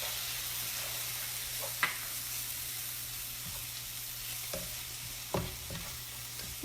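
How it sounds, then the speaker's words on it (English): Garlic fries in a pan with caramelized onions, a soft steady sizzle at low level with occasional utensil taps and scrapes as it is stirred. "I'm going to add my garlic in here, and I'm going to cook it for about 30 seconds."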